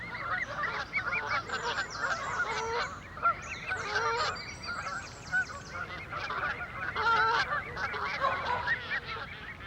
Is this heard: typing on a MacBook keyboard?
no